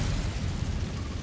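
Incendio fire spell cast in Hogwarts Legacy, a short low whooshing burst of flame with a rumbling roar, loud and close, brief and alone.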